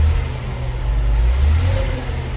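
A CAT 950H wheel loader's engine, suffering from low power, revs up close by with a heavy, low rumble that swells slightly and holds throughout, with no talking.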